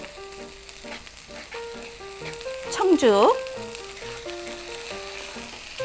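Gochujang, soy sauce, sugar, ketchup and starch syrup sauce sizzles and bubbles steadily in a hot pan for dried pollock gangjeong, with a brief scraping stir partway through, under soft background music.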